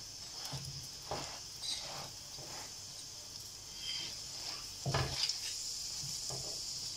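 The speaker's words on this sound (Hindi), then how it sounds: "ये देखो इतना ज़बरदस्त पराठा तैयार हो रहा है आलू का" Aloo paratha, a potato-stuffed flatbread, frying and puffing on a hot griddle: a faint, steady sizzle broken by several soft scraping and pressing strokes, one louder burst near the end.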